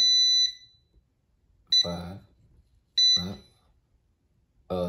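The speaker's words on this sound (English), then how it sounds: "we got one beep" A Brightify electronic keypad entry lock sounds a single short high-pitched beep at the start, followed by bursts of nearby speech.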